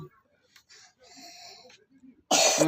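Coughing from a person during a spiritual healing session, with a loud harsh burst near the end after softer breathy, wheezy sounds and murmured voices.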